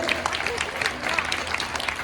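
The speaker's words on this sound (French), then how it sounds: "on va donner une grande main d'applaudissement en haut" Crowd in a sports centre applauds parents, a brief patter of many hands clapping at moderate distance, with people talking over it.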